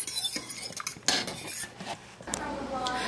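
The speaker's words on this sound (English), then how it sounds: "the fork is going in it pretty easily" A fork clinks and scrapes against a pot while poking into a slow-cooked pot roast, a few close, sharp metallic taps and rustles at a quiet level.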